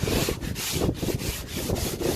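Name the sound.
sanding a boat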